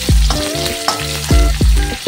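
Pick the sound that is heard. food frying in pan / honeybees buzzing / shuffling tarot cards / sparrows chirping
food frying in pan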